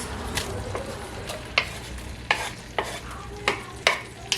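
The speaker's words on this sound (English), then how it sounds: "we have a whole onion chopped and diced, and we're gonna saute these and caramelize these." Chopped, diced onion sautéing in olive oil and butter in a pan, a steady soft sizzle broken by several sharp spatula scrapes and stirs, close and alone with no talk.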